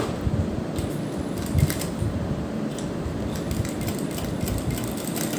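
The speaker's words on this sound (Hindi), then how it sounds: "इस किनारे पर सिलाई लगाने के बाद देखिए हम इस तरफ भी किनारे किनारे पर सिलाई लगा लेंगे।" A sewing machine stitches lace along the edge of a neckline, a close continuous mechanical whir and rattle with a brief louder clatter early on, alone without talk.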